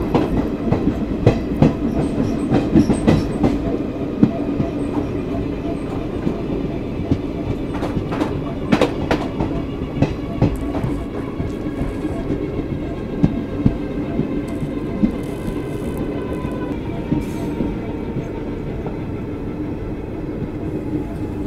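Chetak Express passenger train running on rails between Udaipur and Delhi, a continuous rumbling ride with rhythmic clickety-clack of wheels over joints and occasional sharp metallic clanks, heard from on board.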